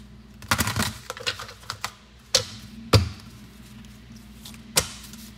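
Oracle cards being shuffled by hand, with a quick flurry of crisp papery riffles and slaps followed by a few sparse, sharp card snaps, close up and with no voices.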